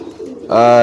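A pet pigeon, a market-bought bird, gives a close, loud cooing call that swells in after a quieter rustling start.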